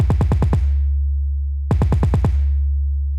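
808 bass with cut itself enabled, sounding cleaner as a deep sustained low tone under two clusters of quick percussive hits spaced well apart, with nobody talking.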